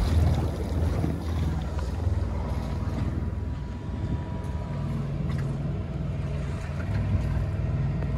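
Steady low rumble of a Jeanneau Merry Fisher 1095 motorboat riding big sea swells, with continuous wind and water wash across the microphone and no clear individual splashes.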